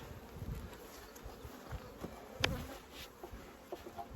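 Carpathian honeybees at a freshly opened hive, insulation removed, buzzing in a soft, continuous hum with small bursts and one brief sharp sound near the middle.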